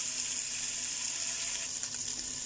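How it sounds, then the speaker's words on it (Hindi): Mutton pieces frying in a pot, a steady close sizzle with a bright hiss and faint stirring, no voices. "तो हम मटन को फ्राई कर लेते हैं"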